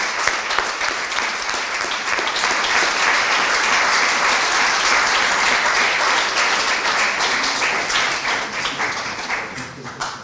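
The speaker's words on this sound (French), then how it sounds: "nous l'applaudissons." Audience applause at a public academic session, dense sustained clapping from a large crowd for about ten seconds, fading slightly toward the end.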